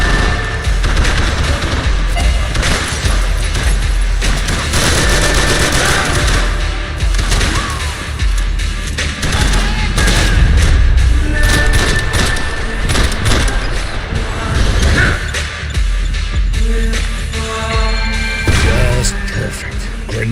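Dense, loud gunfire and heavy blasts from grenades in Max Payne 3, rolling continuously with sharp cracks and booms layered over one another throughout.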